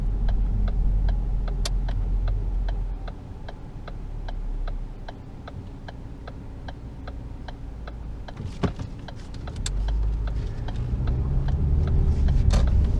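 A 2013 Ford Focus SE drives along a road with a steady low engine and road rumble inside the cabin, while an indicator ticks in an even rhythm throughout.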